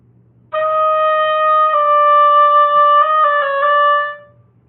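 A solo oboe plays measure 18 of the 2018 all-state etude: a long sustained note followed by a few shorter stepwise notes with quick ornaments, close and clear over a quiet room hum.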